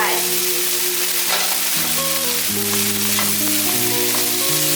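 Eggplant and tofu with celery stir-fried in a wok, a loud steady sizzle with scraping stirs layered over background music, no talk.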